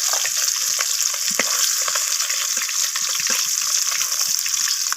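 Bhetki fish bones frying in hot oil, a steady dense sizzle with crackling bursts running unbroken and close throughout, no talking.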